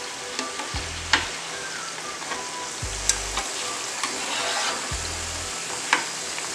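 Rava snacks deep-frying in a pan of hot oil, a steady close sizzle with occasional sharper pops and crackles, no talking.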